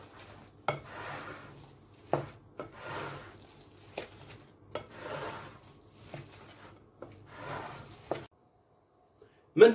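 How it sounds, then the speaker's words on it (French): Two veal cannelloni fillings, one with hedgehog mushrooms and chanterelles, being mixed in a bowl: rhythmic soft wet stirring strokes with sharp knocks of the utensil against the bowl about every second and a half, close and quiet, then a pause. "Et après, on va mélanger nos deux farces."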